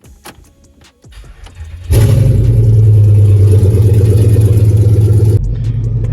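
A loud Pontiac Grand Prix GXP engine starts and settles into a close, heavy, rumbling idle that continues steadily, dropping slightly in level near the end, after some quiet handling noises at the beginning.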